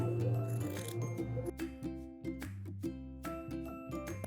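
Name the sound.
scissors cutting through one layer of a wool coat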